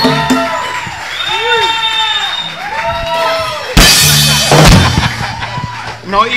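A live audience cheers and whoops for a band on a TV show, first under a host's voice, then a loud burst of crowd noise swelling about halfway through.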